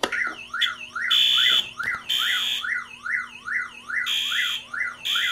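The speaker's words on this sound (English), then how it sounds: "It makes all those beep noise effects." A Directed Electronics 514N soft chirp siren wired into a fire alarm system cycles through its electronic effects: rising-and-falling warbles, rapid chirps and steady high tones, loud and close, switching patterns every second or so.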